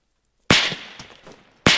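Gunfire in the military video game Arma 3: two sharp, loud shots about a second apart, the first with a decaying tail and faint echoes before the second crack cuts in.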